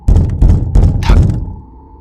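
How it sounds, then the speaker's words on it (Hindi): Three heavy knocks hit a door as a horror story sound effect, loud and close, followed by a short fading resonance. "जैसे ही दरवाजा खटखटाने की आवाज आई"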